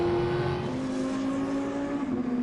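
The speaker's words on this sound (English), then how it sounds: "And there's 33, race leader Timo Scheider" A GT race car at the Spa 24 Hours endurance race sounds a steady, loud engine note with a slowly shifting pitch as it passes, continuous for the whole stretch with no talk.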